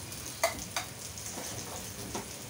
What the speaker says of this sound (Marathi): ओला कांदा चिरून भाजून घेत आहे